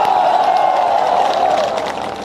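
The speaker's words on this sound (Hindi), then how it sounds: "ये असल में आपकी तालियां नहीं है, आपकी भड़ास निकल रही है" An audience at a political rally in Madhya Pradesh applauds and cheers in a dense, continuous wash of clapping and crowd noise that fades slightly near the end.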